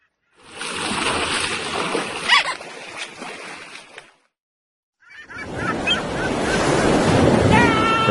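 Ocean waves wash up on a beach in an iPad game, with surf noise in two bursts separated by a short silence and faint honking bird calls mixed in.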